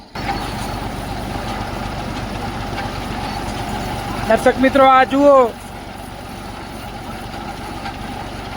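A tractor fitted with a pressure jet sprayer, used for Diwali cleaning at the Umiyadham Vandhay temple complex, runs at a steady low idle throughout while someone speaks briefly over it.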